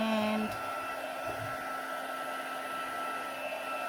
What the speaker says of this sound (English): get my heat tool